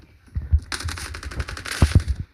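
Rapid bursts of UMP submachine gun fire in the mobile shooter Standoff 2, a loud sustained volley of shots with a few heavier single reports toward the end, no talking.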